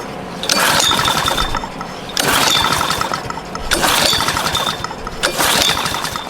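Honda-powered Pramac GC160 generator with its air cleaner off, pull-started and running: a rough small engine clattering close by in repeated surges and dips, with no talking.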